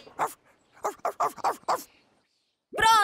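A dog gives a series of short, loud yips and barks in quick bursts, then a longer high-pitched whining bark after a brief pause.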